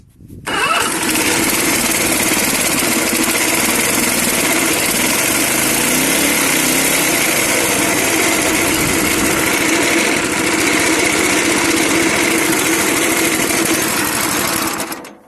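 A riding lawn mower's small engine cranks, catches and runs at a steady, loud buzzing drone for a long stretch, then cuts out at the end.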